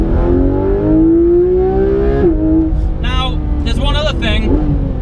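A Porsche 991 GT3 RS engine on a drive in Tuscany, revving loudly and close, pitch climbing steadily then dropping as it shifts, followed by sharp higher blips and rising revs, with wind and road noise underneath.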